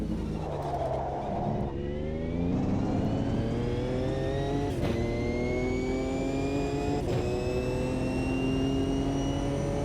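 A Ford GTE race car laps in Automobilista 2, its engine droning loud and steady through rising gear pulls, with a couple of sharp shift blips and a high whine climbing over the run.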